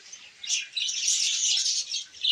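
A flock of budgerigars squawks and chatters frantically in alarm in a continuous high-pitched burst.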